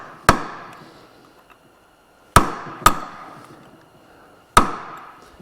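A hammer drives a punch to peen over a nut during a Suzuki GSX-R 600/750 transmission replacement, giving four sharp, ringing metallic strikes close by, two of them in quick succession, with quiet gaps between.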